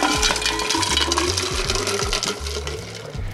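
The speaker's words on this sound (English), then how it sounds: "we're just gonna pour this straight into the glass" Rum cocktail poured straight into a Pilsner glass over crushed ice, with a liquid stream and repeated clinks and rattles of ice, close and fairly quiet.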